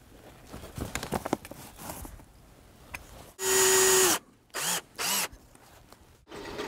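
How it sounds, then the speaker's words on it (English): A power drill boring a bolt hole in a shop-built bandsaw mill tensioner whines loudly in one sustained burst, then in two short pulses and a final start, with quieter handling noise before. "drill out and bolt in another bolt hole"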